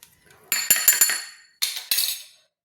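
Spoonfuls of cornflour tipped into a glass bowl while making a pea-filled paratha dough, giving two separate bursts of light clinking and scraping, each with a few sharp taps of the spoon against the glass.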